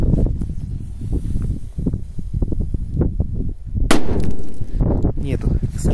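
Crackling pops and sharp bursts of a Corsair 6 firecracker going off nearby at night, with a hissing fizz and a louder bang midway, plus some background voices.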